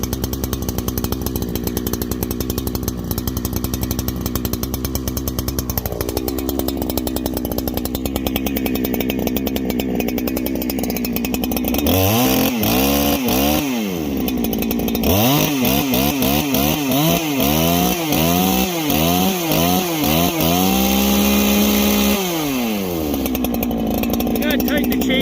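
A Holzfforma Farmertec G288 chainsaw bucks pine, loud and close: it idles and revs, then bogs down repeatedly as it cuts through the logs before returning to a high whine.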